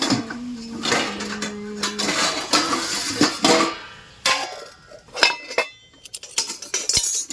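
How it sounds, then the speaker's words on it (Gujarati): Plates, glasses and steel cutlery clink and clatter as they are picked up and set down in a home kitchen, a close, busy run of irregular knocks and chinks. "તો 2 સમયસું લઈ લઉં ને 2 ડીશ લઈ લઉં"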